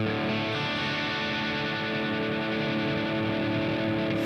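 A sustained, heavily distorted electric guitar chord played through a BIAS distortion pedal rings out loud and thick, holding steady before cutting off abruptly.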